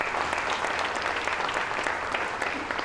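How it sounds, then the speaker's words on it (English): Brief, steady audience applause breaks out at the Richland Fire and Emergency Services badging ceremony, dense hand clapping from the crowd lasting a few seconds with no voices over it. "If we can offer them a quick round of applause."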